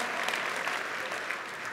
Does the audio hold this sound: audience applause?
yes